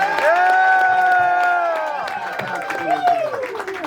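Live crowd at a radio show event cheers and claps to vote for a contestant, with loud shouts and whoops over scattered applause, voices rising together and then trailing off.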